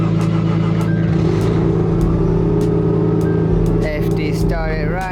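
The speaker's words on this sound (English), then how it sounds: "FD started right up." Mazda RX-7 FD rotary engine running steadily and close, a loud low drone held from start to end with a slight dip near the end and brief talk over it.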